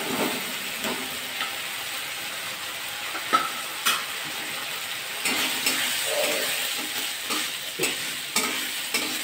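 Potatoes fry in a pan with cabbage and prawns for a Bengali cabbage-and-shrimp dish, giving a steady close sizzle broken by occasional sharp clicks and scrapes of stirring.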